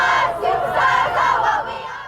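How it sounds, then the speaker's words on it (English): A stadium crowd at a high school football playoff game at Fred Kelly Stadium cheers and yells in a steady, loud, sustained roar, stirred up by cheerleaders, with no pauses across the short stretch. "The Mariner cheerleaders rev up the crowd at Fred Kelly Stadium."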